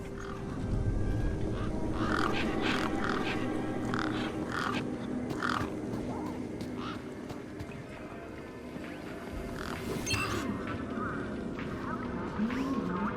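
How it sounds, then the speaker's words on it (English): Crows cawing in the video game Beyond a Steel Sky, a dense flock of harsh repeated calls overlapping over a steady ambient background, fairly loud and continuous throughout. "Those birds weren't going to let me anywhere near the back of the truck."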